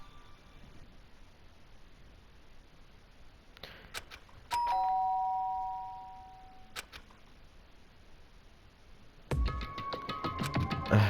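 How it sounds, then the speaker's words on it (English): A doorbell in the video game Danganronpa chimes with a clear two-tone ding-dong and a fading ring, set over faint background hum, followed by further bright clicks and chimes. "did I hear the doorbell?"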